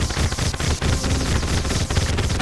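Star Cannon weapon firing in the Terraria video game, a dense, continuous stream of rapid shots and impacts that sound loud and busy throughout the short stretch.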